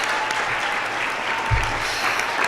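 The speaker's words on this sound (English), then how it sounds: "let's give a round of applause." Applause from a student government audience at a state of the association address, steady clapping for a few seconds with a brief thump partway through.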